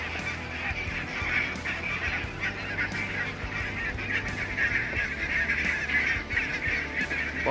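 A large flock of geese honking continuously, many overlapping calls forming a dense, steady clamor over low background rumble.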